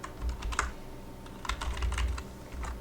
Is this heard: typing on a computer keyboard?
yes